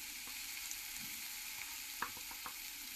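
Onions frying in a pan as turmeric and cumin powder are added hiss in a quiet, steady sizzle, with a few light clicks and taps of a spoon.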